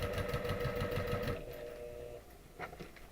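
A sewing machine stitches a quilt block across a pressed open seam, a close rapid mechanical chatter for about a second and a half, then a softer hum and a couple of faint clicks.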